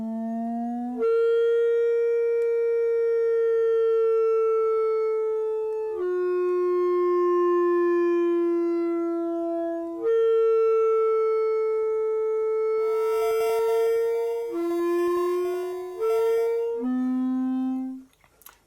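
Siren-like feedback tones from a no-input mixer patch, steady pitched wails that jump between levels every few seconds, loud and alone, with brief noisy bursts near the end.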